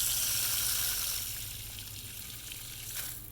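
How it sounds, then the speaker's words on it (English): Water running from an unusual garden faucet fitted with levers and valves, a steady hissing gush that eases slightly partway through, heard alone without talk. "It's an odd faucet. Never seen one with levers and valves like that before"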